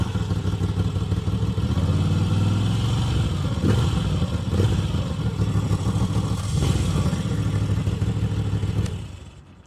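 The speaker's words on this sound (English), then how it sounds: "I start with the noise because we are talking about a motorcycle Euro 5 Plus air-cooled." Air-cooled Euro 5 Plus Moto Guzzi V7 Sport 2025 motorcycle engine running steadily and loud for about nine seconds, with a few throttle blips and mechanical clatter before it cuts off at the end.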